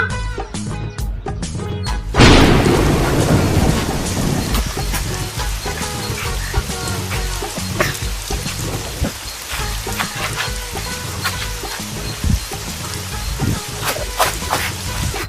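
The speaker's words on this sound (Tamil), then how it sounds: "அதுக்குள்ள மழை வந்துச்சு" Steady rain pours down outdoors, loud and continuous, with a heavier wash of rainfall at the start and scattered drips and patters on surfaces throughout; no thunder stands out clearly.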